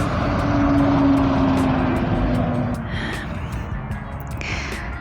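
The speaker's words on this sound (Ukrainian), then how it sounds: "моя ділянка знаходиться біля дороги. Тут дуже багато машин" Cars pass along a road next to a garden, one loud vehicle swelling and then fading away, followed by quieter traffic hum and lighter passing noise.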